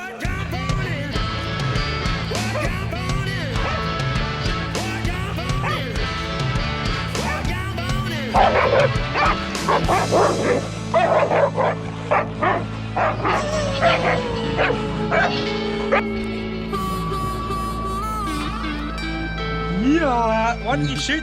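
A hunting dog barks, yips and whimpers at a cornered boar in the hills, sharp repeated barks close by over several seconds, mixed with excited shouting from men nearby.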